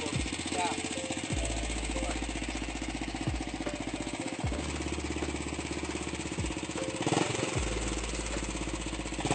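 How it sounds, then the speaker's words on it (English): A small engine on a homemade helicopter runs steadily at high revs with a harsh, rattling, machine-like drone, loud and close throughout, with a few periodic lower thumps. "the engine sounds closer to a milling machine than a helicopter"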